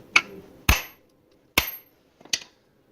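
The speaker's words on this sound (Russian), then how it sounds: "Надо эту втулочку немножко осадить" A bushing on a Valeo alternator from a VW Passat B5+ is tapped into place through a bolt: four sharp, close metallic hammer strikes at uneven intervals, each dying away quickly into near silence.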